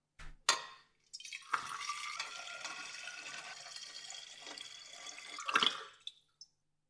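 Liquid pours into a glass separatory funnel in a splashy, trickling rush broken by brief gaps, with a few sharp knocks of glass at the start and end, heard up close.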